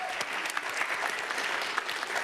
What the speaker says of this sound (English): let's give this group a large round of applause